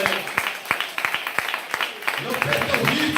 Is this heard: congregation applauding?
yes